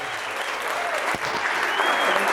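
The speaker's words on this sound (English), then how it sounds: "why don't you guys give these guys a big round of applause?" Film-screening audience at an event with Cheech and Chong gives a big round of applause, loud and sustained, with scattered cheers and voices mixed into the clapping.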